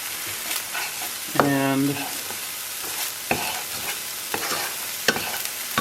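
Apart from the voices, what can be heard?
onions frying and sizzling in a pan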